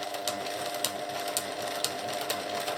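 A domestic sewing machine stitches a ready-made curtain hem on stitch length 4 with a steady, fast mechanical hum and a regular ticking rhythm, close and continuous throughout.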